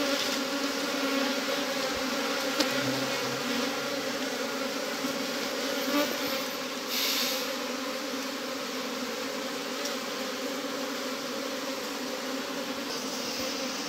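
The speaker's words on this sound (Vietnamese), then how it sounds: "Đây con ong chúa đang bò ra đây mọi người ạ." Honeybees swarm around a wild mountain hive with their queen, making a close, steady, dense buzzing drone that runs unbroken throughout.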